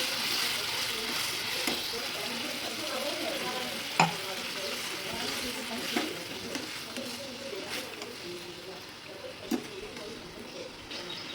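Soya chunks stir and fry in a spiced gravy with hot water added, a steady soft sizzle with occasional scraping knocks of a spoon against the pan, fairly quiet and continuous.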